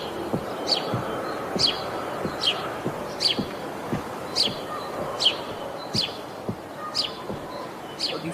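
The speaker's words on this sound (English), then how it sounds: "Since the birds are chirping in the tree, so that would give some sense of the natural place." Birds chirp at a steady rhythm in a tree inside the Cryptovoxels virtual world. The regular calls play alone over a soft rustling background.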